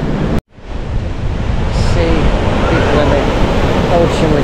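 Ocean waves on the beach at Legian, Bali, a continuous loud surf wash with wind buffeting the microphone after a brief dropout at the start.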